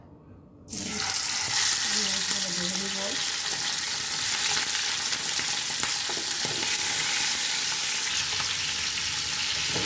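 Hilsa fish pieces fry in a pan, lightly shallow-fried before being cooked with bottle gourd, a steady loud sizzle that bursts in after a quiet start and stays continuous, with faint clinks of utensils.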